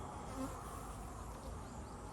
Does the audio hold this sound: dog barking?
no